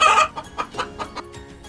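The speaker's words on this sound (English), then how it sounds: "Chicken." A chicken clucks close by: a louder opening squawk, then a short run of about six soft, evenly spaced clucks.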